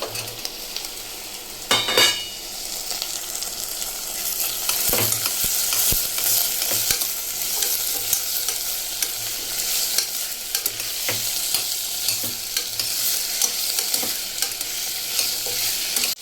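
Chopped vegetables with curry leaves sizzle and fry in a pan, a steady crackling hiss broken by occasional clinks of a stirring spoon against the metal, close and without talk.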